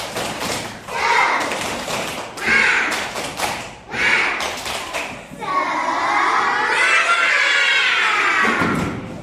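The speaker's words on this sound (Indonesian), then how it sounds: "Tepuk semangat." A class of children in an Indonesian Islamic education lesson does a rhythmic clap chant, loud bursts of group clapping and chanted voices in quick patterns, ending in a sustained shout together.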